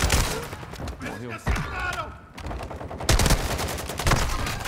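Rapid bursts of gunfire in the video game Call of Duty: Warzone 2.0 crackle in quick succession, loud and close, with brief pauses and a voice speaking Portuguese between volleys.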